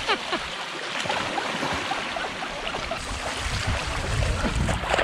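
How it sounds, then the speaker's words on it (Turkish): Deep waterfall in the Malaysian mountains, a steady loud broadband rush of flowing water that fills the whole scene without a break. "Burası bildiğiniz derin şelalenin aktığı yer."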